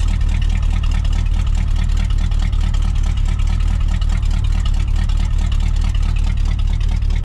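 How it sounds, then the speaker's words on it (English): A 1953 deuce and a half truck with dual exhaust and two cherry bomb mufflers idles loudly nearby, giving a steady, rumbling engine drone with a rapid low pulse and no let-up. "It's dual exhaust with 2 cherry bombs."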